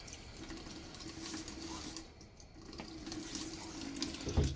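Lukewarm hard water runs from a bathroom tap into a sink as a face is wetted before a shave, a steady close rushing stream that dips briefly midway, then resumes with a small splash at the end.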